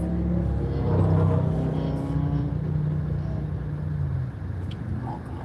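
Car driving in slow road traffic, with a steady low engine rumble and road noise throughout and no voices heard.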